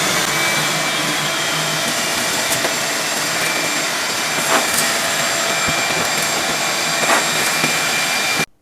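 Loud vacuum cleaner sucking debris out of the empty space where an old dishwasher stood for ten years, a steady close roar with brief rattling surges as dirt is pulled in.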